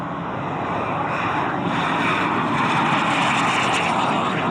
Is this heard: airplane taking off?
yes